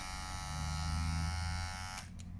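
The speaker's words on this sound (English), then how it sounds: "there's the sound of the detailers" A steady electric buzzing hum of a ZEROGAP cordless hair trimmer running close by, cutting off abruptly near the end.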